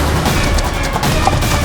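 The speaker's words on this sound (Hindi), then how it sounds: "विस्फोट हुआ है, हमें निकलना होगा" Explosion sound effect in a palace drama: a loud, dense rumbling blast with crackling debris, sustained at full strength throughout the short clip, with no voices.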